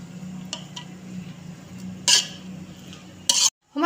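A spoon stirs sweet zarda rice in a pot and dishes it out, making soft scraping under a low hum, a few faint ticks, and two sharp metallic clinks near the end.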